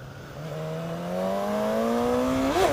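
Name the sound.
Suzuki GSX-S1000 motorcycle accelerating on on-ramp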